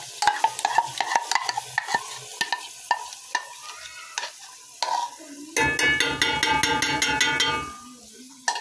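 Chilies and curry leaves frying in a pan, a spoon scraping and clacking in quick taps, then a loud burst of crackling sizzle as the chilies hit the hot oil, close and continuous before fading.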